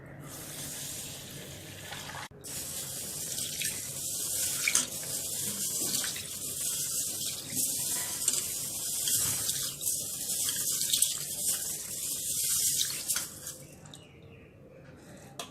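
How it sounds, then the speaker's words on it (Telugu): Moong beans and foxtail millet are rinsed in bowls of water, with a tap running and water splashing and swishing up close in uneven bursts, easing off near the end. "ఒక బౌల్లో పెసలు, ఒక బౌల్లో కొర్రలను వేసుకొని వాటర్ వేసుకొని కడుక్కోవాలి"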